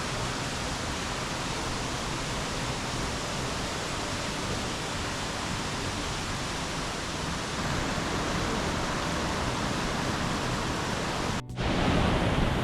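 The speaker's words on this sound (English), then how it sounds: "Lovely little waterfall going up this hill here." A small waterfall tumbles down a hillside along a walking path in Northern Ireland, giving a steady, broad rushing roar that continues unbroken. It swells slightly louder near the end, with no talking.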